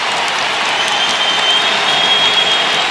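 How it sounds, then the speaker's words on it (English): A packed basketball arena crowd gives Kobe Bryant a standing ovation in a game against the Nuggets, with loud, sustained, dense applause and crowd roar filling the whole moment. "Now he goes out to a standing O"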